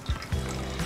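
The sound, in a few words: hot water poured for pour-over coffee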